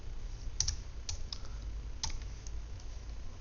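Quiet, scattered clicks of computer keys as a name is typed into drafting software, a few light taps spaced irregularly over a low background hiss.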